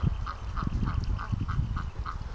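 Rouen drakes quack repeatedly in a breeding pen while fighting over females, a steady string of fairly loud, evenly spaced calls over a busy background of flock noise.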